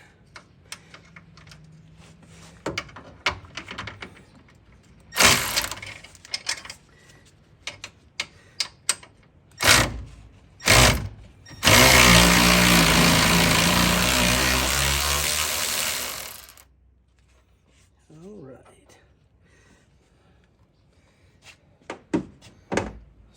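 A stubby wrench works on power steering components, giving scattered metallic clicks and dull thunks, with a loud stretch of rattling noise in the middle and quieter ticks around it.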